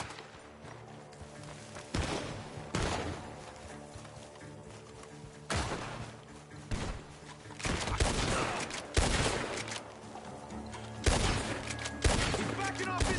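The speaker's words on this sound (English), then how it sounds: "The gunshots are coming from that barn!" Bursts of gunfire crack repeatedly over a steady soundtrack in Red Dead Redemption 2, some shots sharp and close, others clustered in rapid volleys.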